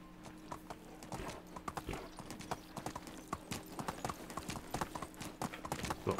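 Horse hooves clip-clop steadily in the medieval survival game Medieval Dynasty, a brisk, even walking rhythm that stays close and clear throughout, with no talking over it.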